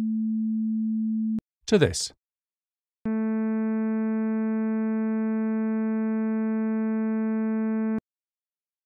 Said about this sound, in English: We've made a pleasant sound from simple sine waves.